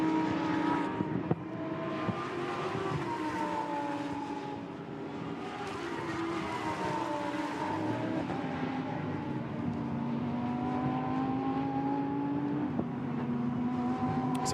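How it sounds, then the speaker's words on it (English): Lamborghini Super Trofeo race cars accelerate through a curve at the Nürburgring, several engines wailing together in a sustained, rising and falling roar with climbing pitch sweeps as they pass at steady distance. "the cars now, once again, accelerate down through the Bilstein curve towards the Ad Van Bogen"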